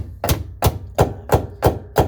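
A hammer taps out the hinge pin of a Mercedes W124 door, six loud, close, evenly spaced metallic knocks in a steady rhythm.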